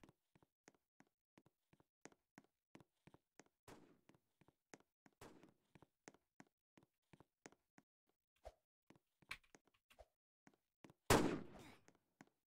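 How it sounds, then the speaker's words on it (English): Gunfire in a Roblox video game: a long run of sharp, evenly spaced single shots with a louder burst near the end, no talking. "who's shooting at me?"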